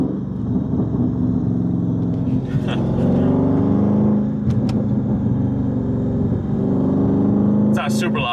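A Chrysler 300 Scat Pack in track mode rumbles steadily through its exhaust during downshifts, with a deep low burble and a few short pops. Someone talks over the engine sound for most of the stretch.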